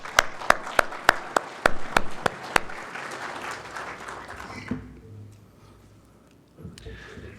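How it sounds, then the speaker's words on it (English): Audience applause at a conference plenary session, with a few loud, rhythmic claps over a lighter crowd wash that dies away within about five seconds, leaving near silence and a faint rustle. "please give them a round of applause"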